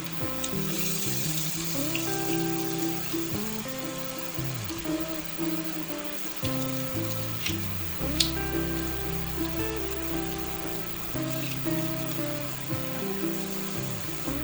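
Onions sautéing in a pan with garlic for a from-scratch green bean casserole, a steady soft sizzle and crackle running throughout with light stirring clinks, no voices.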